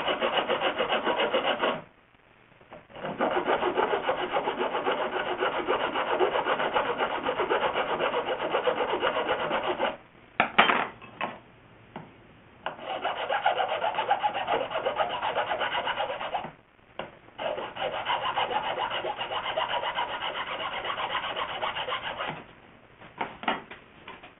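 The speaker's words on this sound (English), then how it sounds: "Then my mortise, using my files, smooth them out." Files rasping a wooden mortise smooth for a three-legged Chinese stool, long continuous scraping strokes, close and steady, broken by a few brief pauses.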